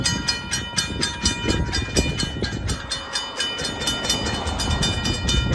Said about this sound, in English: Amtrak PO 40 from Miami to Chicago.